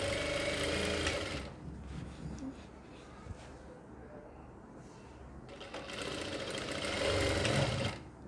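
A sewing machine stitches a kurti seam in a boutique, loud steady whirring at the start and again near the end, with a quieter stretch of handling between.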